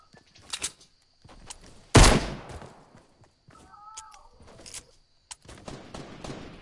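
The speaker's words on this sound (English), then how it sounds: "I got gunshots." Video game gunfire: a loud, sharp burst of shots stands out partway through, with scattered smaller shot-like cracks and in-game sounds around it, at close range.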